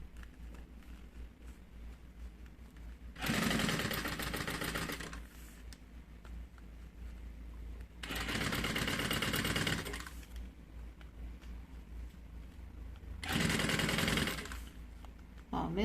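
A sewing machine stitches a zipper into a bag lining in three separate bursts of a couple of seconds each. Quiet pauses lie between the bursts, and the machine sounds close and fairly loud.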